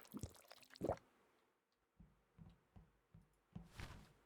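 Gulping and splashing as water is drunk from a bucket in Nomad Drive, a few quick wet slurps up front followed by soft, evenly spaced sips and a final splashy swallow, close and quiet.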